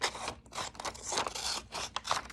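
Scissors snipping through a paper music sheet to trim off one line, a run of close, crisp cutting strokes with short pauses between them and no talk.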